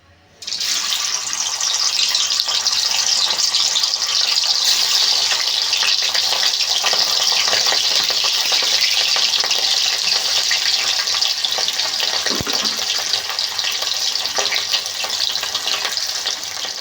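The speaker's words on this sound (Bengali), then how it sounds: "পনিরগুলো কেটে রেখেছিলাম একে একে ভেজে নেব" Cut paneer pieces fry in hot oil in a village kitchen, a loud, dense, unbroken sizzle that starts abruptly and holds steady throughout, close up, with no talking.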